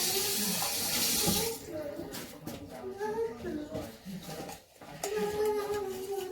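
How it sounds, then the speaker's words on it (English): Water from a kitchen tap pouring into a measuring cup, a loud steady splashing gush for about a second and a half before it cuts off, followed by softer kitchen handling sounds and a voice talking. "I'm gonna put 1 cup of water"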